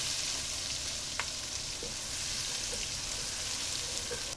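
Ginger, garlic and green chilies fry in a pot, giving a dense, even crackling sizzle throughout, with a couple of faint stirring knocks and no voices.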